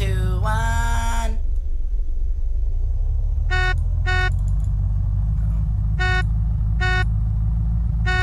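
Car engine in the video game Unturned, nearly out of gas: a steady low engine rumble fills the clip, opened by a brief horn blast, with a series of short electronic beeps repeating over the drone.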